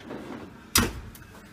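A cast iron pan goes into a home oven, landing with a single sharp metallic clunk as the oven door moves, followed by a faint fading rattle in a quiet kitchen.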